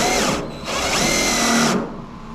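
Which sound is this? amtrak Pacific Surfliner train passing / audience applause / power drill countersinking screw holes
power drill countersinking screw holes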